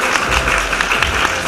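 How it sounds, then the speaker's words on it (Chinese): An audience at a film festival opening ceremony in Kaohsiung applauds, a dense, steady burst of clapping from a large crowd, loud and close. "掌声欢迎导演跟制片"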